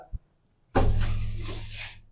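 Fire extinguisher discharged in a gas-safety demonstration: after a short knock, a sudden loud, close hiss of spray bursts out and holds steadily for over a second.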